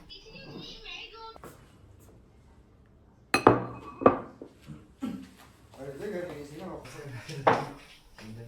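Dishes and bowls of side dishes for a family hot pot dinner at home in China are set down on a table, producing several loud close clinks and clatters of ceramic and glass over quieter shuffling.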